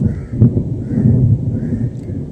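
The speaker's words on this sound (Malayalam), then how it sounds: "നല്ല ഇടിയും മഴയൊക്കെ ഉണ്ട്" Thunder rumbles low and steady through rain in a fishing setting, a continuous heavy roll with no clear breaks, loud and close.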